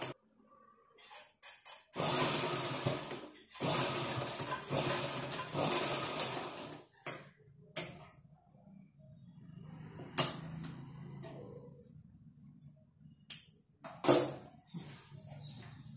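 Sewing machine stitching a blouse seam runs in a steady burst of several seconds, then a few short stops and starts with sparse clicks, close up and without talk.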